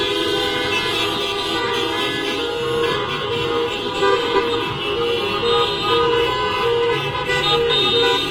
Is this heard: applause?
no